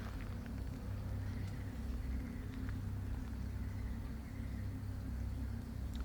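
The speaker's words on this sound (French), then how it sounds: "Puis on a le bruit des camions" Trucks passing far off in an outdoor setting, heard as a steady low rumble with faint traffic noise that holds evenly throughout, with no voices present.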